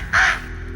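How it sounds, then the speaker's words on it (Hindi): A single harsh crow caw in a Hindi fantasy TV series rises loud and close, then fades into a quiet room-tone tail with no other sounds. "बेताल, अब अगर आप चाहते हैं कि आपकी आवाज हमेशा के लिए कौवे जैसी ना रहे"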